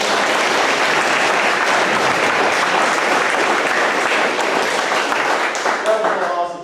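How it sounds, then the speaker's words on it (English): Loud, dense applause from a large crowd at a water quality workshop goes on steadily throughout and thins slightly at the end. "we all give our speakers a round of applause."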